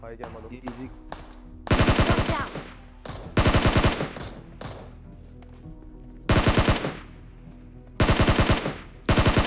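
Automatic gunfire in the BGMI battle royale mobile game, loud close bursts arriving in four or five separate volleys of rapid shots with quieter game ambience between them.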